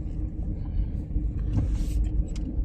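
A car rolls past on a street, a close, steady low rumble that swells slightly as it goes by over a few seconds, with no talking.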